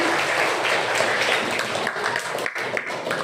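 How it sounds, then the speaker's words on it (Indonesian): Audience applause at a school gathering on the curriculum, steady dense clapping from a crowd filling the space, fairly loud and continuous with no pauses. "Beri tangan yang aplaus, tepuk tangan semuanya"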